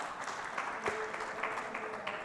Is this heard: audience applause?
yes